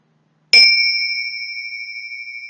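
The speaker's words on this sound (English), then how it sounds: "Wait for the chime." A single bright chime struck once after a brief silence, ringing clearly and slowly decaying with a gentle wavering shimmer as it fades, heard alone in a quiet room.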